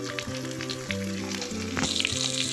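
Diced potatoes fry with a full mix of spices, including turmeric powder, in a hot pan, giving a steady, close sizzle that continues without break under a faint background hum.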